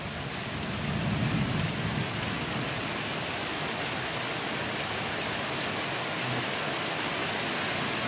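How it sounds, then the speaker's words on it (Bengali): Heavy rain pours outside in the Sundarbans under dark storm clouds, a dense, steady hiss of falling water that holds unbroken throughout at close range. "বাইরে কীভাবে বৃষ্টিটা হচ্ছে"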